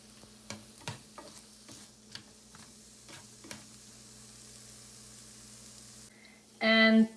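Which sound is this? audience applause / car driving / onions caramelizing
onions caramelizing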